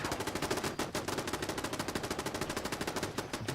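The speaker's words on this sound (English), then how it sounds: "What are they shooting" Rapid automatic gunfire from the Fallout London video game rattles in a fast, steady burst, moderately quiet and slightly distant, with no talking.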